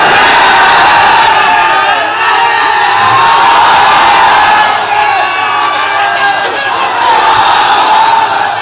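A large crowd at a religious sermon gathering shouts slogans in unison, a loud, dense roar of many voices that rises and falls in waves across the whole stretch.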